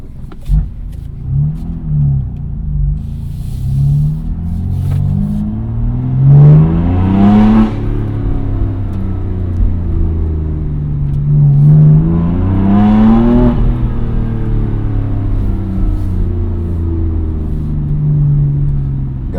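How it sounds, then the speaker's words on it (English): A nearby BMW M2 engine revving up twice in long rising surges, loud and rumbling, with crackling, popping exhaust as it accelerates. "Gotta get the exhaust warmed up first. Seems to pop a little bit better when you do that."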